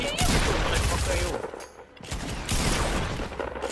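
Rapid gunfire from Fortnite crackles in dense overlapping volleys, loud and nearly continuous, dips briefly in the middle, then resumes at full intensity.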